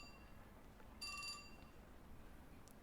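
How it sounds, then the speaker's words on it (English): A mobile phone email notification chime in the video game 428: Shibuya Scramble. A short, bright ringing tone of about a third of a second sits faintly over a quiet background hiss, with a tiny tick following soon after. "Just then, Minoru Kawa's phone chimed."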